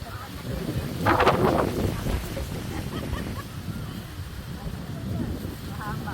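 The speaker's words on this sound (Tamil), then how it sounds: "எப்படிங்க காத்து பாருங்க" Wind gusts across an open outdoor setting, a steady broadband rush buffeting the microphone, with a stronger gust early on and a few brief voice-like sounds underneath.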